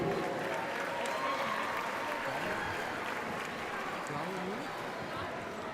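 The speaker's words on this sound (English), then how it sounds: "Big round of applause for Stefan Flowery." Crowd applause in a gym during a high school slam dunk competition, a dense wash of clapping with voices and announcer talk underneath, heard from a distance.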